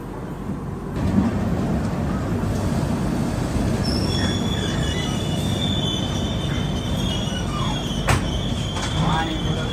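A passenger train pulling out of Vadodara Junction gives a steady, loud rumble of rolling wagons for the whole span, with squealing wheels, a rising tone and a sharp clank near the end.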